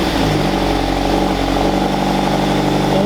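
A Toyota 86 GTS engine idles with a deep, throaty rumble from a loud aftermarket X-FORCE catback exhaust, steady and close for the whole stretch.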